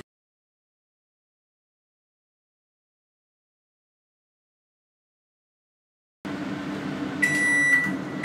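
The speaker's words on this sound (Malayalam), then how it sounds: "180 പ്രീ ഹീറ്റ് ചെയ്ത ഓവണിൽ ലോറാക്കി വെച്ചു" An oven baking cheese pasta sticks at 180 degrees runs with a steady low hum after a stretch of silence, and a short electronic beep sounds near the end.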